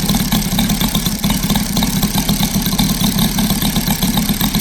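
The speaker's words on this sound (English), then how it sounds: "Engine a lot healthier on the idle because of the retarded timing from the Saito original setting" A Saito FG-60 four-stroke model engine with an upgraded R3 intake and retarded timing idles steadily, a loud close, even chugging drone with a fast regular firing pulse and no voices.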